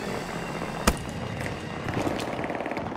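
Bomb blast in the video game Battlefield 2042, a single sharp boom with a sudden thud that stands out briefly over constant loud battle noise.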